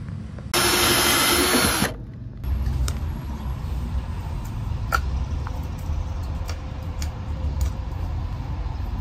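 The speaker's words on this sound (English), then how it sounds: "Let's drill them." A power drill whirs loudly in one short burst lasting over a second, drilling holes in a fire truck dashboard, followed by quieter background rumble and occasional clicks.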